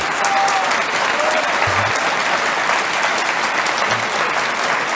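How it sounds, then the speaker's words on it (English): Sustained applause from a conference audience fills the room, a dense, steady wash of many hands clapping at even loudness throughout, with a faint low murmur beneath. "Thanks for the applause"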